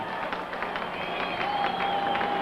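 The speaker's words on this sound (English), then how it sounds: "The crowd now starting to make some noise, rooting for the end of the game." A baseball stadium crowd at a Giants–Dodgers game cheers and claps in a steady, dense roar with scattered applause, late in the game, loud and continuous throughout.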